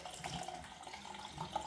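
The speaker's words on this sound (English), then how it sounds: "Rinse the face with a bit of warm water" Warm water running from a bathroom tap while a freshly shaved face is rinsed, a steady close splashing stream over the sink with small uneven bursts, no voices.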